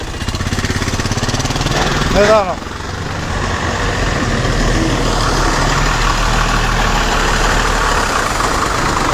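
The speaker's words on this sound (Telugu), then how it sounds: "ఈపూర్ లంక నుంచి తెనాలి బయలుదేరుతున్న బస్సు" A bus idles before leaving Eepur Lanka village for Tenali in the early morning, its engine giving a loud, steady low rumble close by, briefly joined by a rising horn-like whine near the start.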